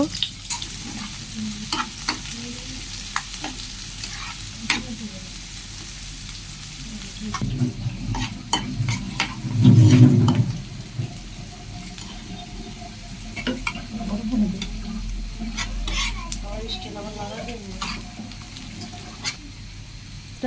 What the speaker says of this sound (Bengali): করার জন্য কড়াইতে দিয়ে দিলাম তেল, দিব পেঁয়াজটা একটু ভেজে নিব